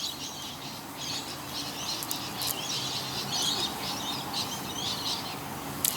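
Birds chirping at dawn at an outdoor morning service, a steady chorus of high, quick twittering calls over a low background hum, moderately distant and continuous, with no talk over them.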